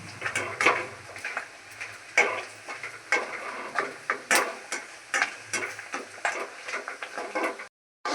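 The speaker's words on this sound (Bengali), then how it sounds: "এই পাঁপড়গুলো এখন ভাজা হয়ে গেল" Papads frying in hot oil with a steady sizzle, punctuated by repeated scraping and stirring clatters from a utensil against the pan.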